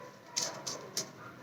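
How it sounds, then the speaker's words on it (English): Dogs bark in the distance, three short faint yips spaced evenly apart. "Sorry about the dogs"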